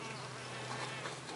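Mason bees buzz around nest tunnels in an experiment comparing rounded and vertical tunnel ends, a close, continuous droning hum with no talk.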